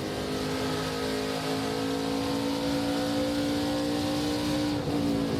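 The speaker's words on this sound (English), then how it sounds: "That's the sound of a fast race car down the backstretch here." An ARCA Menards Series race car roars down the backstretch at Phoenix Raceway at high speed, its steady engine whine loud and continuous with a slight pitch shift near the end.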